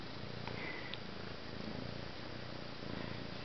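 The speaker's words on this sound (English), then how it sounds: "The most well-adjusted, playful, purring loveys ever." A six-month-old kitten purrs softly and steadily, a faint, even rumble with no voices over it.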